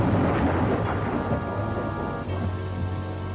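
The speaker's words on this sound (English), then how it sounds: "it looks as though a storm is on the way" Thunderstorm with steady heavy rain in the morning, loud and continuous, with a low rolling rumble of thunder throughout and a deeper swell near the end; no voices.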